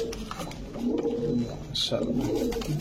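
Pigeons of fancy breeds such as teddy, Shahranpuri and red-tailed birds coo at a market stall, soft repeated throaty calls close by, mixed with steady talking voices.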